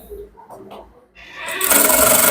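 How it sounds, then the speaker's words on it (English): A sewing machine stitches along the folded waistband of a man's trouser, its whirring rising and holding steady loud after a quiet start with faint movement. "So stitch from that line"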